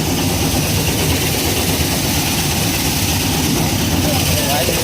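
A tractor-driven threshing machine cleaning grain runs with a loud, continuous heavy engine roar and mechanical rumble, while a person talks over it.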